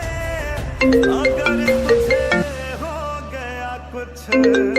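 A melodic electronic ringtone plays a repeating tune, loud and close, over a low steady hum.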